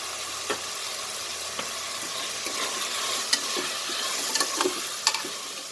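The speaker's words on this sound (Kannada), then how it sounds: "ಹಾಗಾಗಿ ನಾನು ವೆಜಿಟೇಬಲ್ಸ್ ಎಲ್ಲ ಫಸ್ಟಿಗೆ ಹಾಕ್ಕೊಂಡು ಸ್ವಲ್ಪ ಫ್ರೈ ಮಾಡ್ಕೊಳ್ತಿದ್ದೀನಿ." Vegetables for a restaurant-style veg biryani fry in oil, a steady close sizzle broken by scattered scrapes and clinks of a spoon stirring the pan, with no voices.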